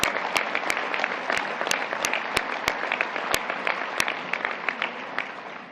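An audience at the U.S. Soccer Annual General Meeting breaks into applause for the match referees, a steady crowd clapping with many sharp individual claps popping out close by, sustained evenly for several seconds.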